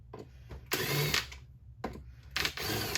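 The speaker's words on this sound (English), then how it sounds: "Take these 4 screws out of here." Screws being backed out of the crankcase of a Jonsered 2165 chainsaw with a power driver, in short whirring bursts separated by pauses, close and fairly loud with no talking.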